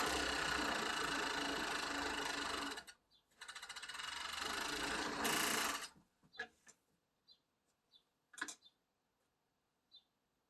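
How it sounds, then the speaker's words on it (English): A serger stitches along a garment seam, a fast whirring motor run for about three seconds, a short pause, then another steady burst, followed by quiet fabric handling and small clicks. "Seam goes on the inside. Serge along."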